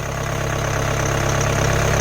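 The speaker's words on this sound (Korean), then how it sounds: "현재 냉간 수동이고 어, 엔진 떨림이 거의 없습니다." Cold SUV engine idling in the engine bay on a snowy-season day, a steady close mechanical hum with a faint rhythmic pulse and little shaking, continuous throughout with no talk.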